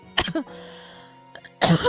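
A couple of short, harsh coughs close by, then a pause with a low steady background hum, followed by a louder burst of rough coughing.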